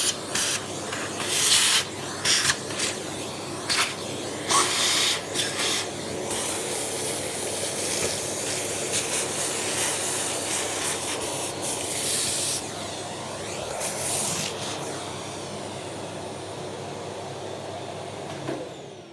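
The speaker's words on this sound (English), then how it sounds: "So, a little bit more vacuuming." A vacuum cleaner works over a part from a 1984 Honda C70 E Cub motorcycle, giving a steady, close, rushing hiss that lasts throughout, with brief louder bursts and scraping as the nozzle moves over the metal.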